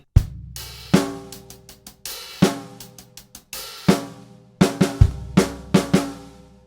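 A drum kit plays two bars near the end of a disco song: sparse, ringing hits with crashes and a short fill that brings in the backbeat. The strokes are close and loud, spaced unevenly, and no one talks.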